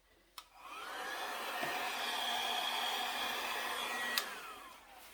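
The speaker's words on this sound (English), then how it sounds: "using it's right here, travel size hair dryer to spread my paint on the canvas." A travel-size hair dryer, used to spread acrylic paint on a canvas, switches on with a click and blows a steady, loud airy whoosh for several seconds, then clicks off.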